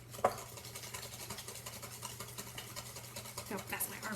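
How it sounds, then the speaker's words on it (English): A whisk stirring a sugar mixture in a bowl, a fast, steady scraping and rattling rhythm that carries on throughout at moderate volume. "And I'm just gonna whisk."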